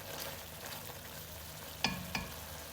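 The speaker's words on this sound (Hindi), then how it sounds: "अब हम इसको 1 से 2 मिनट अच्छी तरह भून लेंगे।" Tomatoes for chicken karahi frying and being mashed in a pan, a low steady sizzle with two sharp scraping knocks from the spoon near the end; no talking.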